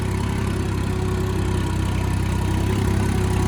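Tractor engine running in top gear at low RPM, a steady, loud, close diesel throb with a constant low hum and no voices.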